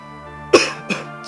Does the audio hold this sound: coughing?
yes